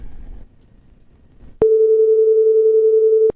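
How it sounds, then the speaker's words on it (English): A generated 440 Hz pure tone on the note A sounds loudly and steadily for under two seconds, starting and stopping abruptly after faint background noise. "440, which is note A, which is sound like this."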